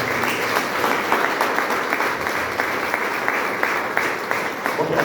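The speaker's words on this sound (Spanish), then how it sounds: "brindemos un aplauso en memoria de los hermanos ya mencionados" A church congregation claps steadily in a warm, continuous round of applause of even loudness, with faint voices mixed into the room.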